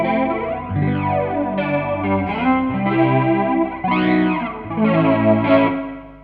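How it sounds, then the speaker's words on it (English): Electric guitar through the flanger setting of an original Line 6 Pod, distorted chords and notes with sweeping, whooshing comb-filter swirls rising and falling across several phrases. "This is flanger 1."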